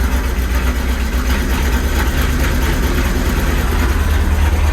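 A motorhome engine idling in the cockpit after starting, a loud, steady low rumble that holds even throughout with no voices.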